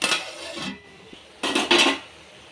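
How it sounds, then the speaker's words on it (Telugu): A lid clatters onto a metal cooking pot of goat head curry, sharp clinks and a scraping rattle in two short bursts separated by a quiet gap, close and moderately loud. "మూత పెట్టేద్దాం."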